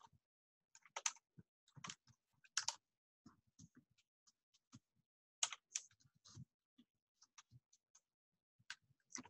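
Typing on a computer keyboard while names and job titles are entered into a slide, with irregular bursts of quiet key clicks separated by short pauses and no talking.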